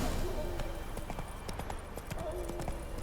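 Rapid hoofbeats of Roach, Geralt's horse in The Witcher 3 video game, galloping in a steady clip-clop rhythm, loud and close over game ambience and some talk.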